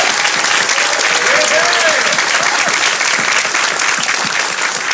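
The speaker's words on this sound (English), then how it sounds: "let's go ahead and give a round of applause for everyone for participating" Sustained audience applause for hackathon participants at the UL Lafayette CajunCodeFest event, a dense, loud wash of clapping that continues evenly throughout with a faint voice briefly audible beneath it.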